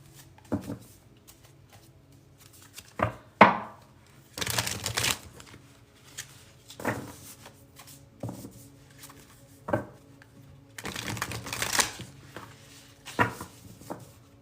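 Tarot cards being shuffled and pulled, with soft papery riffles and slaps in irregular bursts, close and quiet against a hushed room background.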